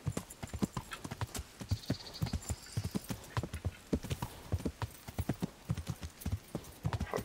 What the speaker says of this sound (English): this horse is a bit too slow